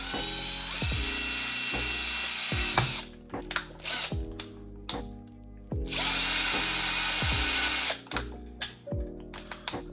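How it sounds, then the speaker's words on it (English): A power drill whines loudly in long sustained bursts, pausing between holes, with short starts and stops and a ratcheting tool sound in between. "So I'm just going to drill a couple of holes here."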